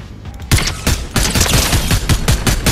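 Rapid gunfire in the video game Fortnite, loud bursts of close shots packed tightly together, fired in a couple of quick volleys with a short pause between them, no voices.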